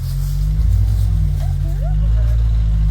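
Off-road vehicle grinding through woods on a Connecticut fall trail run, a loud low engine drone held steady and close throughout, with a brief faint voice-like whine over it.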